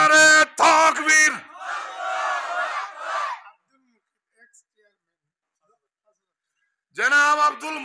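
A crowd at a Bangla religious sermon gathering answers with a loud collective chant, preceded by a single leading shout; a long silence follows, then a voice speaks loudly again.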